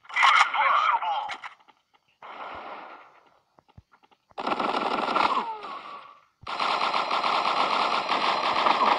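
Gatling gun in a shooting video game, long sustained bursts of rapid automatic fire separated by short gaps, loud and close, with talk heard in the clip.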